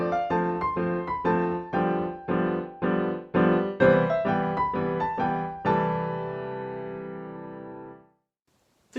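Solo piano improvising in 7/8, with broken chords struck in an uneven repeating pulse, clear and close, closing on a final held chord that rings and decays before silence.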